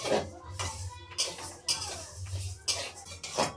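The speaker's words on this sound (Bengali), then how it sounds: "ডালটা আমি আগে তেল ছাড়া এটা ভেজে নেব" Mung dal is dry-roasted in a pan without oil, with metal spatula scrapes and clinks against the pan in irregular bursts, close by.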